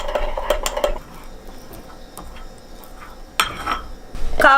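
Spoon or spatula clinks and scrapes against a container while stirring a rye flour starter culture, a burst of clattering early on, a quieter stretch, then more knocks and scraping near the end.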